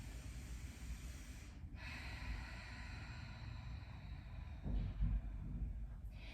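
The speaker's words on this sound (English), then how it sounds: "Taking a big breath here." A single deep breath drawn in and released during a low back yoga session, faint and close against a quiet hiss, rising briefly near the end, with no talking.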